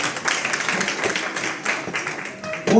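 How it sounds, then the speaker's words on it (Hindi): An audience claps for Mr. Bhanwar Singh Naruka at an AWPL gathering, a loud and continuous crackle of many hands that runs through the moment, with a voice heard alongside it. "मिस्टर भंवर सिंह नरूका सर, जिनके लिए जोरदार ताली हो"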